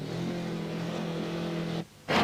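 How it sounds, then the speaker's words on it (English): A four-wheel drive Audi Quattro rally car's engine keeps running while it sits stalled in mud, a close steady drone that drops out briefly before surging back. "even the four-wheel drive Quattro is stalled in the mud. Engine still running, but not going anywhere."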